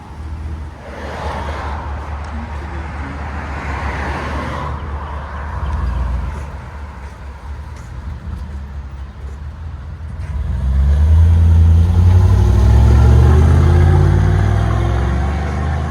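A 2004 Chevy Avalanche Z71 with a 5.3L V8 and Flowmaster Super 10 exhaust, idling with a steady low rumble that swells into a louder, deeper revving roar partway through, close and alone.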